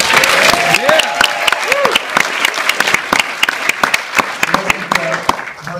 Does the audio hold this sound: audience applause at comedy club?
yes